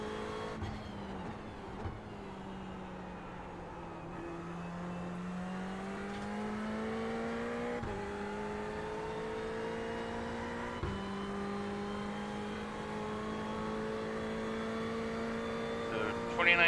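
Race car engine droning steadily around the Bathurst circuit in a racing simulator, its pitch rising and falling through gear changes, with brief cuts between gears, a faint hum underneath and occasional speech.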